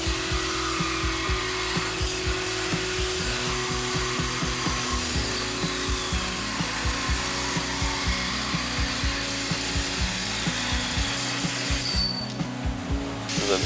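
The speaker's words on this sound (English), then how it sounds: "this is me going back and cutting down the vertical bars" A Sawzall reciprocating saw cuts down the vertical metal bars on a race car build. It runs loud and close the whole time with a steady buzzing stroke, its rhythm rough and uneven as the blade bites and chatters through the steel.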